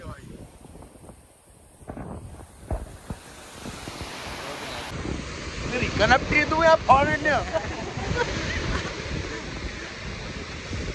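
A cool wind blowing in the hills of Manali, a soft, steady rush that swells and buffets the microphone while people chat close by.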